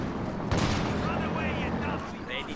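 Tulip rockets fire in a 2v2 Company of Heroes 2 match, a dense volley of sharp explosive cracks and booms with a crackling tail, under a commentator's voice.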